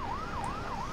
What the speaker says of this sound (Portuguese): Manda uma ambulância pra cá.